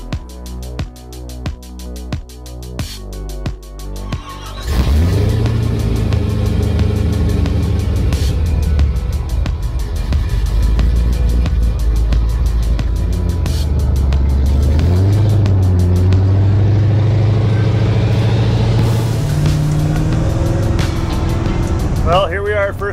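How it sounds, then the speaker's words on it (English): A 1000 hp 1955 Chevy pro-touring build with a loud engine idling lumpily, then revving and pulling away while driving, the engine roaring steadily close by throughout. "we're gonna go take it for a drive and see how she runs"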